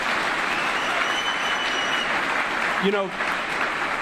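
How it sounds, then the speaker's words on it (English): Audience applause at a live campus event at Catholic University, a steady broad wash of clapping from a crowd that carries through, with a voice briefly speaking over it near the end. "babies always get applause"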